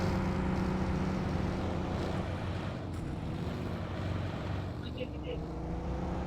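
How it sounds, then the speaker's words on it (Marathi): A vehicle engine drones continuously in a video game match, a steady rumbling motor sound holding for several seconds, with people's voices mixed in. "ए मागे गाडी आली"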